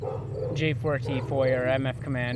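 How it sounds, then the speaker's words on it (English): A dog barks and yips in the background under a man's close, continuous talking, the barks faint and intermittent behind the voice. "Excuse that dog that's barking over there in the background."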